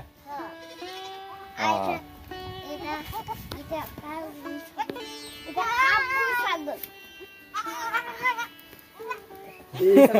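Native Bengal goats bleat repeatedly, several wavering cries close by, mixed with children's voices chattering around them.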